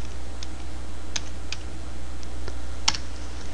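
Several sparse keystrokes on a computer keyboard while a command is typed in CAD software, crisp close clicks spaced irregularly over a steady low hum, no talking.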